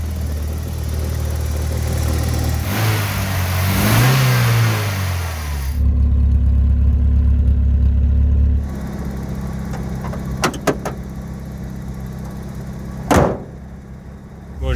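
A van that had not been started for a year fires up and revs hard, the engine note swelling and falling, then settling to a rough idle, followed by a few sharp clunks close by.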